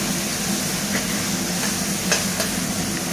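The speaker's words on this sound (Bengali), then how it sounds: "রসুন ফোড়ন দিয়ে চিকেনের টুকরোগুলো দিয়ে ভেজে তারপরে যে ক্যাপসিকাম, বেল পেপার, গাজর, ডিম এগুলো সব দিয়ে ভাজা হচ্ছে একসঙ্গে" Chicken pieces stir-fried with garlic, capsicum, bell pepper, carrot and egg give off a steady, close sizzle and hiss, with a few sharp clinks or scrapes standing out now and then.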